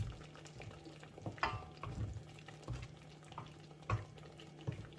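Paneer cubes dropped into a masala gravy in a pan, giving soft, quiet bubbling and simmering with a few light splashes and stirring knocks, faint and with no talking.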